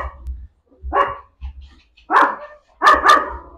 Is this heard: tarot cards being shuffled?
no